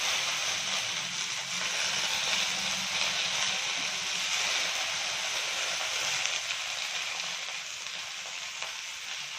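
Ingredients frying in a pan for a gojju palya rice bath, with a steady, even sizzle close by that holds for the whole stretch and a few faint stirring scrapes, without speech.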